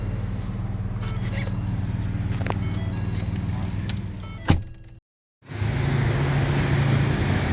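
Rush hour road traffic rumbles steadily nearby with a low engine drone, a sharp knock and a brief drop to near silence before the traffic noise resumes.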